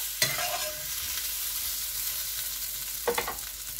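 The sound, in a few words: courgette sausages frying and being stirred in a pan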